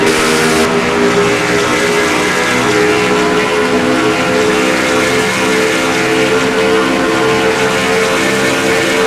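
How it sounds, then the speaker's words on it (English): Onboard car 48 in a race car video game at Kentucky, its engine screaming at very high RPM as a loud, steady, sustained drone with no talk. "These guys are flying. You can just hear how high the RPMs are."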